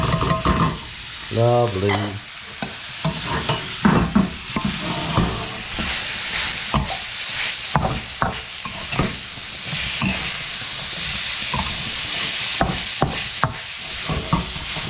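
Onions for a roast chicken stuffing sizzle loudly in a pan, with constant crackling frying and scraping stirs close up, and a brief spoken remark near the start.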